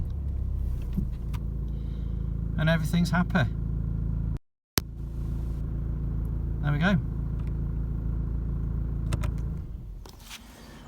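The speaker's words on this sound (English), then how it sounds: "then you can press and start the car," A BMW E90 320d with the N47 diesel engine starts and settles into a steady, low idle rumble, with brief chimes or clicks partway through and someone talking briefly near the end.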